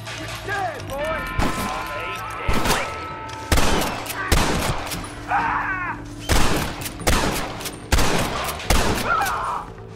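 Repeated gunshots from Red Dead Redemption on PS3 ring out in sharp, loud bursts across a western shootout, mixed with in-game voices and someone talking over the action.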